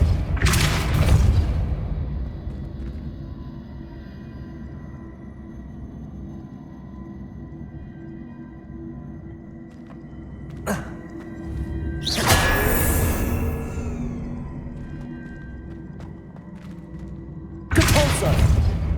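Depulso repelling spells impacting in Hogwarts Legacy: three loud, close booming blasts with whooshing, crackling bursts spaced several seconds apart over a steady low game ambience, one faint sharp click between them.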